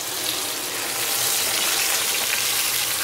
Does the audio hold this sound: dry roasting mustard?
yes